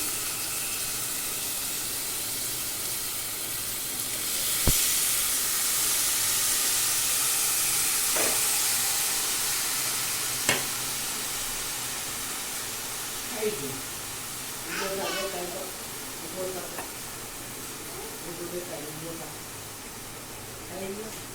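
Finely chopped ridge gourd (galka) hitting hot oil gives a steady, close hiss of sizzling that runs throughout, with a few brief clinks and stirring noises partway through and a voice talking over it.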